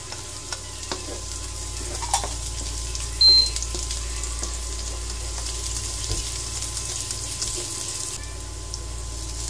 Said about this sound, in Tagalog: So, ito na po yung bawang. Igisa din po natin.